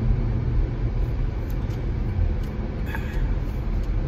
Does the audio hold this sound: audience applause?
no